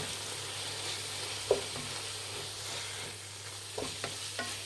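A spoon scrapes and stirs cabbage rice with turmeric, chilli powder, green chillies and garam masala in a sizzling pan, with soft frying hiss and a few sharp clinks against the metal.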